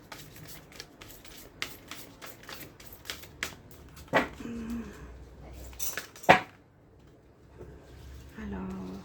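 Atlantis angel oracle cards shuffled in a steady run of soft, close flicks, followed by a few louder slaps as the deck is squared, with faint background sounds between.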